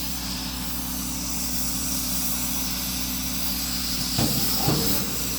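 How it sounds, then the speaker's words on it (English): A steam iron hisses steadily onto fabric during tailoring work, a continuous close hiss with brief bumps of handling noise near the end and no talking. "lots and lots and lots of steam first with the iron that will make the whole thing get soft and pliable"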